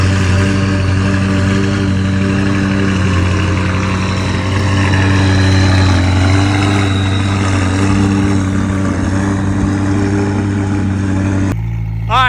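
McLaren 570S fitted with a straight-piped Valvetronic exhaust, running: a loud, steady, close idle with a strong low rumble and layered harmonic drone that holds throughout, then cuts off abruptly near the end.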